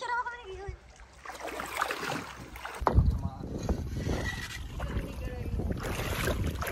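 Motor boat crossing Taal Lake toward Dingin, a steady engine and water rush with wind buffeting the microphone, continuous and close, with people talking over it.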